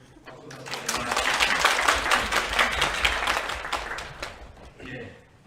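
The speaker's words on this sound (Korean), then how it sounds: "대학원생들에게 박수 부탁드립니다" At a Korean social studies education academic conference, an audience gives graduate students a round of applause: loud, dense clapping swells quickly, holds for a few seconds, then tapers off with a faint voice near the end.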